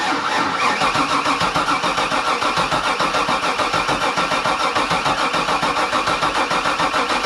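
A 1992 Sea Ray 380 Sun Sport boat, abandoned and now under restoration, has its engine running loudly and steadily close by, a dense, even mid-pitched rumble with a fast pulse and no talking.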